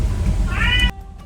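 A pet cat lets out one clear, moderately loud meow that stops abruptly, leaving a quiet room with faint background hum.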